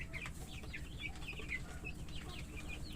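Young hens around two months old cluck softly in short, repeated chirpy notes at a moderate distance over a low, steady background rumble.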